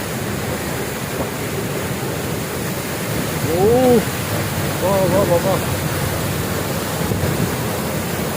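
Broad steady roar of the Hogenakkal Falls waterfall, heard close and loud as a constant wash of rushing water, with a brief voice breaking through partway.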